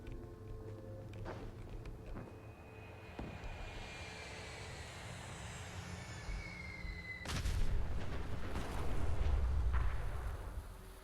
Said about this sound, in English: Ooh, nuclear bomb run. Give me a combo bomb.